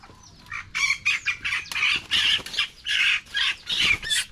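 A hen squawks and clucks loudly in rapid repeated bursts, sounding agitated and close, with little else in the background.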